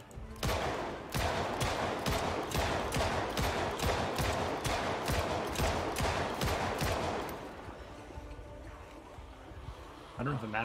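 Rapid, evenly spaced gunfire in the Project Zomboid video game, a steady run of loud shots lasting about seven seconds before fading into quieter background noise.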